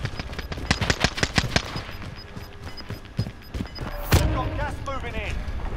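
DMR rifle fire in Call of Duty: Modern Warfare, a fast series of sharp, punchy shots in a close rhythmic burst, then a loud impact and a trailing clatter, with players talking.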